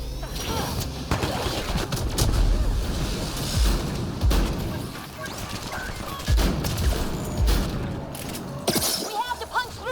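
Gunfire in the video game Mass Effect Andromeda: dense, rapid bursts of shots mixed with crashing impacts, loud and nearly continuous for about ten seconds.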